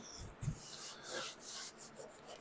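A soft damp cloth wipes sawdust from a live edge wooden serving board in a few short rubbing strokes, quiet and close.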